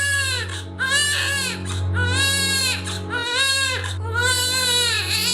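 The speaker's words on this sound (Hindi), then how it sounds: "रात को 2 बजे हमारा बच्चा रोया था" A four-day-old baby boy cries at night, loud and close, in repeated wailing bursts separated by short breaths, with a steady low hum underneath and no talking.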